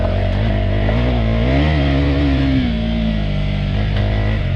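A KTM 390 Adventure motorcycle climbing a muddy hill off-road, its engine loud and close, revving steadily with a rising and falling pitch as it works for traction.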